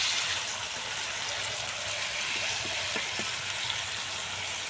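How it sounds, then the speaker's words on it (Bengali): Yardlong beans fry gently in oil with turmeric and salt, giving a soft, even sizzle throughout, with a few faint stirring taps near the middle. "সামান্য হলুদ গুঁড়ো আর সামান্য নুন দিয়ে বরবটি ভেজে নেব"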